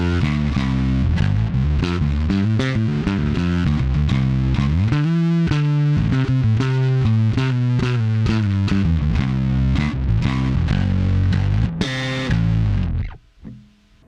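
Electric bass played through a Fender Bassman vintage fuzz pedal, thick fuzzy notes with a steady rhythmic riff throughout, loud and close, ending with a brief trailing decay.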